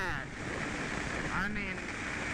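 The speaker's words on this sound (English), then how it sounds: "I'm just fighting this freaking wind" Wind roaring past a rider on a 2024 Kawasaki Ninja 500 on the highway, a steady close buffeting rush of noise that fills the whole clip, with someone talking over it.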